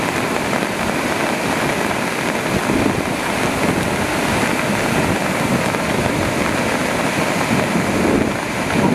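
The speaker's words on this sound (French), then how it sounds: "il y a vraiment beaucoup de vent et beaucoup de pluie" Strong wind roars against the microphone with rain hissing steadily during a storm at Le Claret, a loud, unbroken rush of noise.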